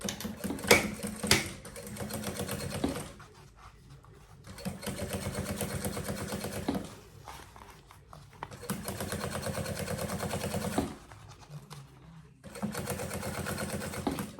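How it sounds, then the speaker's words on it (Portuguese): A sewing machine runs stitch after stitch along the zipper edge of a banana-style bag, steady close-up whirring in several bursts separated by short pauses. "E venho costurando. E essa costura é rente à cremalheira."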